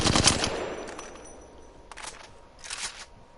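Rapid automatic gunfire in a PS4 shooter, a burst of sharp cracking shots at the start followed by two shorter bursts that fade out, loud and alone.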